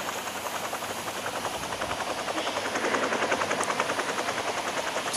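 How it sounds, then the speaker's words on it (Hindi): A stolen helicopter flies in the Rope Hero Vice Town video game, its rotor giving a steady, fast chopping whir over a broad hiss, continuous and fairly loud, with no voices. "अभी मैंने हेलीकॉप्टर चोरी कर लिया है।"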